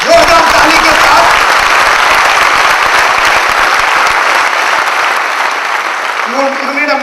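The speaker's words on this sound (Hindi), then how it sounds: "जोरदार ताली के साथ" Loud, sustained applause from a large audience at a live motivational seminar, dense steady clapping that fills the whole stretch at close range with no talking over it.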